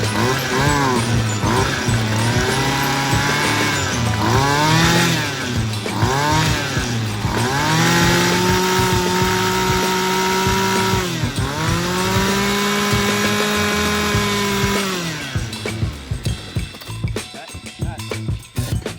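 Homelite EZ Reach small two-stroke engine after a carburetor low-screw adjustment: loud and close, rising and falling through repeated revs, then settling into a rougher, sputtering idle near the end.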